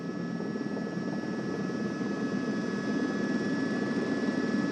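A helicopter filming the Giro d'Italia 2014 cycling race drones with a constant, dense rotor and engine roar that fills the whole stretch without pause.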